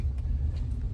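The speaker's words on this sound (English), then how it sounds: "now we get to fight all sorts of traffic trying to get to this city" A car driving through heavy city traffic gives a steady low rumble of engine and road noise throughout, with no voices.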